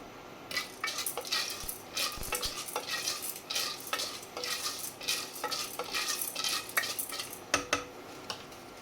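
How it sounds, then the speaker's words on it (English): Dried corn kernels sizzle and crackle in hot oil in a cooker, with irregular sharp pops and occasional clinks of a pot, steady and close throughout. "So it started sizzling, so now I can cover it."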